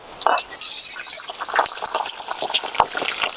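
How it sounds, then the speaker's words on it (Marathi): About half a cup of water is poured into hot dhokla tempering in a pan, a sudden hissing sizzle with bubbling and splashing that continues and gradually settles. "तर आपण याच्यामध्ये ना साधारण अर्धा कप आहे ना पाणी टाकून घेऊ"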